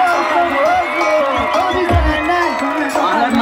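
Carnival bloco crowd in Conceição, Paraíba, applauding and cheering loudly and continuously, with shouts and voices mixed through the noisy street din.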